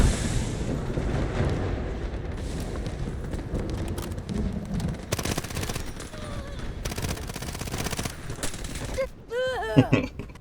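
Rapid bursts from the SMG-45 submachine gun in a first-person shooter video game, dense crackling automatic fire across most of the stretch with short pauses, loud and close.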